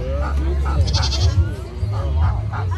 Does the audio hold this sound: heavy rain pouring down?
no